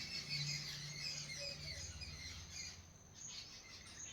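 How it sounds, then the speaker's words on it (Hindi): A dense chorus of many small birds chirps and tweets steadily from close by, busy and continuous with no voices. "देखो कितनी सारी चिड़िया जो हैं।"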